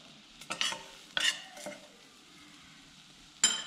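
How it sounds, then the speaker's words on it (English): Butter melting and frying on low heat in a pan while making homemade ginger milk: a faint, steady low sizzle broken by a few short scraping stirs near the start and one more at the end. "So this will fry on a low heat. The butter has to melt away."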